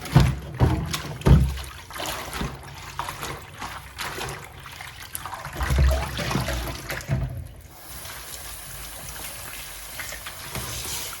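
Mallow greens being rinsed by hand in a basin of water: irregular splashes, trickles and sloshing, with a few sharper dips and swirls close by and no speech.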